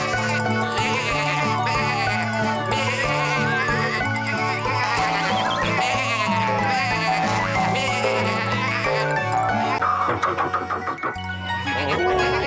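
Sheep bleat playfully over busy, bouncy cartoon music that plays throughout, with a clattering rattle near the end.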